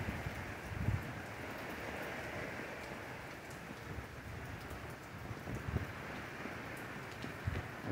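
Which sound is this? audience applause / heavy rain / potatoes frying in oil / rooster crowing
heavy rain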